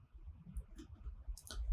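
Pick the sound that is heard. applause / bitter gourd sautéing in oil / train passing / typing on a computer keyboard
typing on a computer keyboard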